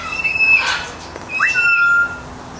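A parrot gives two short whistles, the first with a rising tone and the second sliding up then holding steady, clear and fairly close, with no speech.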